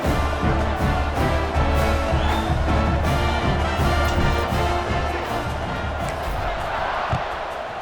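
Stadium crowd roaring at a kickoff in the College Football 26 video game, a loud, steady wash of cheering and chanting with rhythmic thuds that fills the whole clip and eases off slightly near the end.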